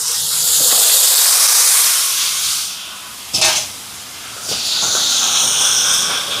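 Chicken hitting hot oil with fennel, curry leaves, dried chillies and onion in a pan, a loud hissing sizzle that dips briefly, flares with a burst of spitting, then swells back to a steady roar.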